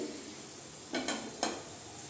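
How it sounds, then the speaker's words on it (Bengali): Chicken tipped into spices fried for a Bengali doi chicken curry and stirred through them, a steady soft sizzle broken by two short scraping bursts from the spoon, with no voices. "চিকেনটা আমি এখন দিয়ে দিচ্ছি। চিকেনটা দিয়ে ভালো করে আমি মিশিয়ে নিচ্ছি।"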